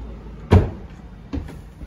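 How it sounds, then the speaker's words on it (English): An apartment door at the Bonnie & Clyde hideout in Joplin, Missouri, a replacement for the original, opens with a sharp knock or thud, then a softer second bump follows about a second later, close by and alone. "as we start to go in the door"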